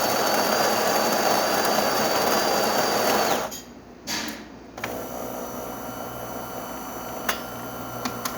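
A DeLonghi Magnifica XS espresso machine pulls a shot with a loud, steady mechanical buzz and whir for about three seconds, then cuts out into quieter hissing and faint clicks as the brew settles.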